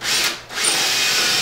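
A power drill bores through a drawer front into the plywood drawer box behind it while a mobile sanding center is being built. The loud, steady whine dips briefly in the middle, then resumes at full strength.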